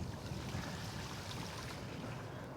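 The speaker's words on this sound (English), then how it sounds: "let's go through some of this water here" A white mid-step Magicycle ebike riding through water and mud, giving a steady, close wash of splashing and rushing noise with wind over the microphone, no talking.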